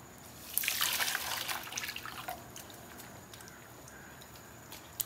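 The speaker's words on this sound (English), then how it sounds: "So then I just make sure each skein gets the water and the citric acid through it and the color." Water mixed with citric acid and dye is poured over wool yarn skeins, a brief close splashing trickle that fades into soft drips and quiet background.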